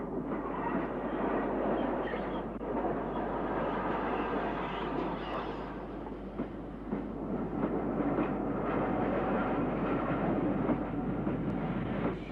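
Hawksworth County class steam locomotive of 1945, County of Hunts, at Snow Hill station, a steady mid-distance rumble of the engine and its train with faint clanks, no voices.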